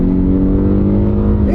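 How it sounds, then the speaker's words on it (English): Engine of an 11-year-old car with 115,000 miles floored hard to pass, a loud steady low roar with strong harmonics holding throughout, rising slightly at the end. "We'll floor it."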